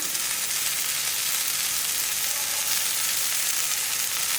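Raw banana slices sizzle in a little oil on a dosa tawa over a slow flame, a close, bright, unbroken frying hiss that holds at a constant loud level with no talking.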